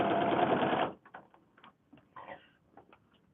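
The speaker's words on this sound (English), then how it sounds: "So just sew block C on" A sewing machine stitches a paper-pieced quilt block in one steady, close whirring run of just under a second, then stops, leaving faint handling clicks and rustles.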